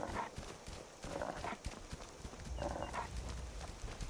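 Horse hooves clip-clop in a steady rhythm of repeated soft thuds in Skyrim, fairly close and clear, with faint ambient background and no talking.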